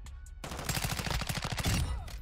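Rapid automatic SMG fire from a Chimera in Call of Duty MW2, a dense burst of closely spaced shots lasting over a second, loud and up close, then trailing off.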